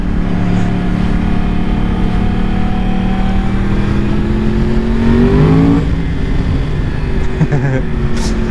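A Yamaha R1 sport motorcycle engine drones steadily while riding, its pitch rising through acceleration before a shift, then settling lower, loud and close with wind rush throughout.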